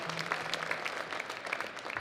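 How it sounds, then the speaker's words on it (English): Audience at a snowmobile racers' luncheon clapping for a team, a short burst of steady scattered hand claps at moderate distance with a faint voice at the start. "Round of applause for Team 49."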